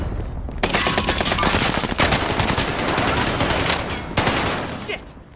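Warzone Rebirth zombie-mode firefight: dense, rapid automatic gunfire in sustained bursts with short breaks, loud and close, while players shout over it.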